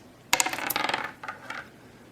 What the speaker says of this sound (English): And she has to roll 2 dice.